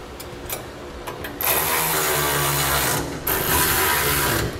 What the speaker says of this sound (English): now we'll tighten up our hardware that holds our center section to our rails